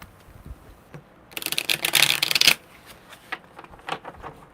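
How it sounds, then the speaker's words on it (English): Tarot cards being shuffled by hand, a dense riffling burst of about a second in the middle, close and fairly loud, with quieter card handling before and after. "One more good shuffle."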